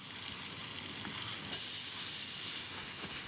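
Shallots soften in a hot pan, their sizzle steady and moderate at first, then swelling into a brighter, louder hiss midway as more goes in, with no voices.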